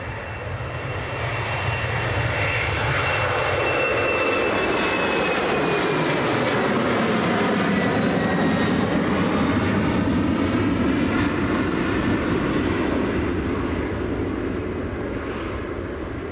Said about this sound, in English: this is Air France to Paris, Charles de Gaulle. Embraer 190